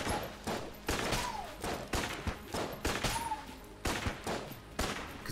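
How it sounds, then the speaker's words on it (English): Repeated Winchester rifle shots in the video game Enter the Gungeon, a steady run of sharp loud reports about every half second to second, with game effects between shots. "I'm gonna use a freaking Winchester rifle."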